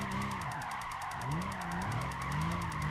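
A Nissan GT-R drifting in Gran Turismo 5 keeps its tires squealing in long wavering skids over a steady engine drone, loud and close with no talk.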